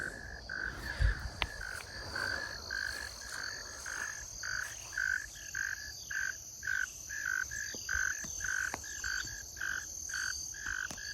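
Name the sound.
tree frogs croaking at dusk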